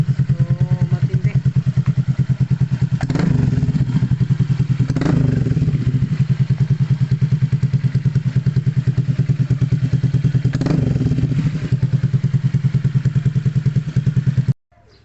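A Honda Click 150 scooter fitted with a new aftermarket muffler idles steadily and close, its low throaty exhaust burble continuous, with a few rev blips and clattering knocks rising over it.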